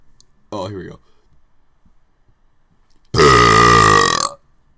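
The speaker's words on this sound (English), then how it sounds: "I'll do one more big burp just so I can feel good about myself for uploading this." Close, loud burps from a man: a short belch, a pause, then one big, long, sustained burp forced out of swallowed air, rumbling for over a second before cutting off.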